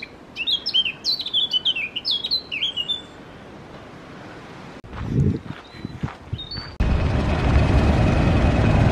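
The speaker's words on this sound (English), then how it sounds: "Little grey bird making that noise." Small grey bird chirping in quick repeated bursts for a few seconds, then fading into outdoor rustling and steady background noise.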